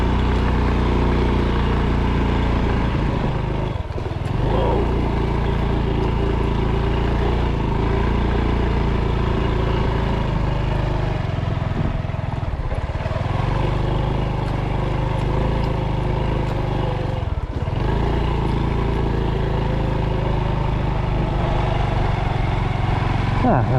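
A loaded Honda Supercub postie bike rides along a rough South Australian track, its small engine droning steadily and loud up close under wind rumble, with a few brief dips as it bumps through terrain.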